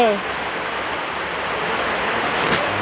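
Steady rain falls in a continuous hiss of dense drops on a surface, fairly loud and even throughout, with a brief voice-like tone at the very start.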